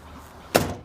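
The rear door of a worn 1989 Jeep YJ swings shut with a single close, sharp thud after a quiet moment, then a short rattling decay.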